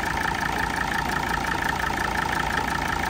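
At a used car market, a diesel engine idles steadily with an even, unbroken rumble and hum at close range, and no one speaks.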